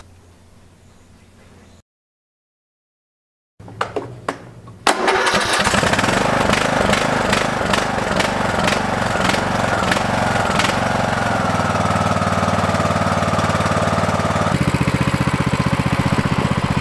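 Small engine of a free lawn tractor being started after a brief silence, catching with a few sputters, then settling into a loud, steady rattling run as it drives, the tone shifting slightly near the end.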